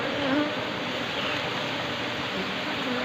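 Apis cerana honey bees buzz in a steady, dense drone that fills the whole stretch without a break, close by and fairly loud, with no voices over it.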